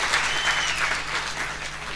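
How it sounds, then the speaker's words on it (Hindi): Steady applause from a seated audience at a humorous Hindi talk, many hands clapping together in a continuous even wash, fairly close and with no speech on top. "अगर तालियों के माध्यम से अपना आशीर्वाद पहुंचाए"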